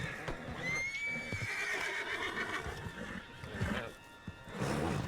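A horse in the Red Dead Redemption 2 video game whinnies with a long rising-and-falling neigh, with hoof clip-clops and snorts around it, fairly close and moderately loud.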